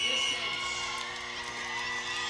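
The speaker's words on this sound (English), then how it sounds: "The bench absolutely cheering them on for that." Roller derby team bench cheering and whooping at a bout, a dense, steady crowd roar of voices that holds at a constant loudness throughout.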